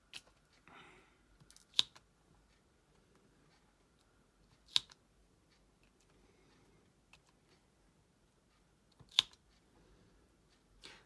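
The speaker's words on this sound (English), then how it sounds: "That clicking noise is only because I'm like, can you see, tapping it?" Sharp, crisp clicks from fingers tapping on a sticky diamond painting canvas, three distinct taps spaced a few seconds apart over a quiet background with faint rustling between them.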